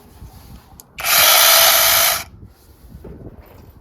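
A Dehan 6-inch brushless 21V cordless lithium-battery mini chainsaw runs in a single loud, steady burst of about a second, with a sharp start and stop and no talk.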